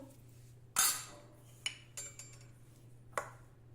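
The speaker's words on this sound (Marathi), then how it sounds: "आता आपण हे सर्व साहित्य नीट मिक्स करून घेऊ एकजीव करून घेऊ" A spoon works dry fakki ingredients and cold milk together in a bowl, giving a few sharp metallic clinks and taps against the bowl with quiet gaps between them.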